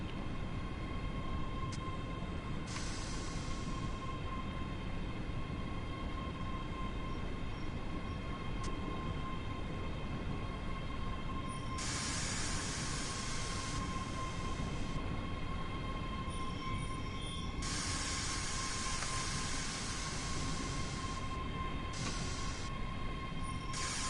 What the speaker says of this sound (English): The train leaving.